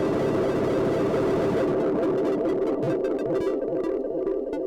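Luna Lunetta synth churns out buzzy audio-rate tones, a dense droning wash that breaks into rapid flickering pulses midway, loud and continuous with no talking.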